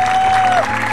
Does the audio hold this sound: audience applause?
yes